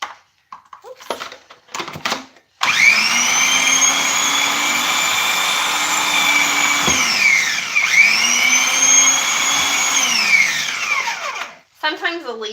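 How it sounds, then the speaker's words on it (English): A food processor shredding cabbage whines loudly at a high, steady pitch, dipping briefly midway as leaves feed through, with short bursts of talk and handling noise before and after the motor runs. "go ahead and put them in the food processor to be shredded up"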